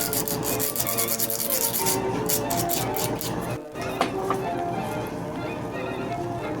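A needle scraped back and forth on a coarse emery board to sharpen it, giving a dense, continuous rasping rub with quick repeated strokes and a brief pause midway.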